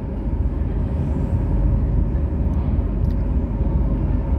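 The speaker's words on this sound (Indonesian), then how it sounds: "Itu ada rangkaian kereta api Argo Semeru." The Argo Semeru passenger train, with its new sleeper suite compartment cars, rumbles past as a loud, steady low roar that holds evenly from start to finish, with no voices over it.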